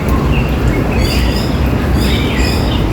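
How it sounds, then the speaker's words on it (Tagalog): Birds chirp and call inside an aviary at the Hong Kong Zoological and Botanical Garden, scattered tweets over a busy, noisy background, fairly close. "Ayan, mga ibon nasa loob."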